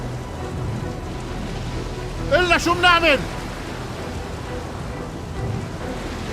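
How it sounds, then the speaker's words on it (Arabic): Steady roar of heavy rain in a storm at sea, with rumbling thunder and surging water in a constant wash throughout, while someone speaks briefly over the din. "أجت هالعاصفة القوية وانجن البحر"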